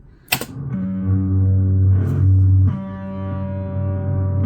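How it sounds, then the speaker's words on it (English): Acoustic guitar recording with distortion set to around 40: a sharp strum onset, then sustained, buzzy chords ringing loud and steady, re-struck near the middle and again later. "We're going to turn up the distortion to around 40."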